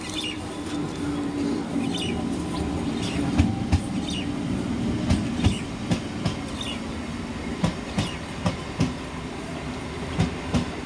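A train rolls into a station, its wheels producing a steady rumble and a string of rhythmic clacks over rail joints, with occasional squeals, fairly close and continuous.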